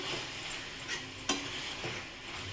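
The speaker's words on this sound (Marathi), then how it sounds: "आता परत आपण मस्त छान मिक्स करून घेऊ" A spoon stirs and mixes a fenugreek leaf dish in a pan, with soft scraping strokes and a gentle sizzle underneath, plus one sharper clink near the middle, quiet and close.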